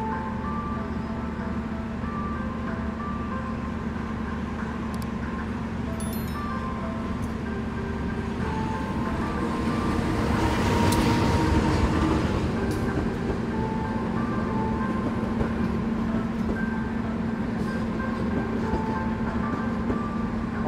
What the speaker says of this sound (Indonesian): Ternyata ada kereta yang akan masuk ya di jalur 2.